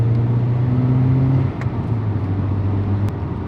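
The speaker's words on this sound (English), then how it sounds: "Just a third, fourth, fifth gear pull" A Toyota Celica GT-Four pulls through third, fourth and fifth gears from inside the cabin, its steady engine drone stepping down in pitch at each shift.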